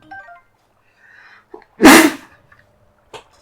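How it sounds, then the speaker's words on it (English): A single loud, close sneeze bursts out midway, surrounded by quiet breaths and small mouth noises. "I really had to sneeze right there."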